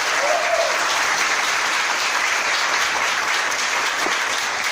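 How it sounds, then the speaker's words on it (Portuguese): A church congregation claps steadily and energetically during a sermon, dense applause filling the space without pause, with a faint voice briefly audible early on. "Vamos aplaudir a palavra do Senhor."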